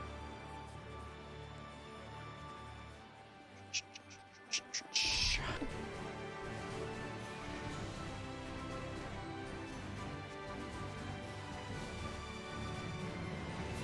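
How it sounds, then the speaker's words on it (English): A bird call in the video game Tales of Zestiria: a few brief, sharp chirps rising out of steady game music and ambience, followed by a sudden burst of activity. "Oh, bird!"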